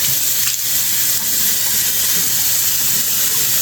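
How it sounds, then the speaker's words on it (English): Water runs steadily from a tap while a face mask is washed off the skin, a loud close hiss of flowing and splashing water that continues throughout. "All right, so now I'm just gonna wash it off."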